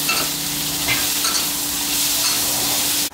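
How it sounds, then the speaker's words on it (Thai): Yardlong beans stir-fried with red curry paste in a hot pan, a loud continuous sizzle that holds steady throughout, close up. "แล้วเราก็จะใส่ถั่วฝักยาวลงไปนะครับ หลังจากผัดพริกแกงจนหอมแล้ว แล้วเราก็ผัดต่อนะครับ"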